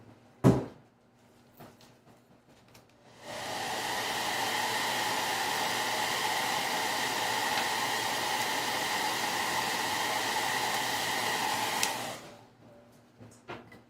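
A hair dryer blows steadily for about nine seconds to dry stencil paint on a Christmas craft project, a loud even whooshing roar that starts and stops abruptly, with a sharp knock just before it.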